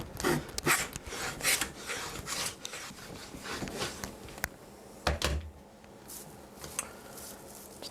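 Stanley 55 combination plane cutting a wood molding, heard as a series of rasping, scraping strokes that vary in length and run one after another at close range, loud enough to fill the space.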